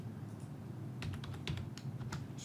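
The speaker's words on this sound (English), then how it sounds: "Sorry, Azerty keyboard." Quick typing on an AZERTY computer keyboard, a handful of sharp clicks in an uneven burst over a low steady room hum, close and quiet with no talking.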